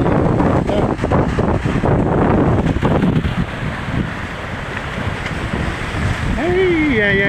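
Strong ocean waves driven by monsoon winds as a typhoon nears northern Luzon: loud, continuous surf roar with heavy wind buffeting the microphone, close and unbroken, with a faint whistling tone near the end.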